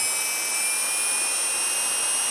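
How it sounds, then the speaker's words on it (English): An electric motor run by a KDE Direct UAS high-voltage electronic speed controller gives a steady, loud, high-pitched whine with sharp tonal lines over airy broadband noise, holding an even pitch throughout. "this is just starting up the motor, and what you want to see is as we go up in throttle, this nice smooth transition all the way up"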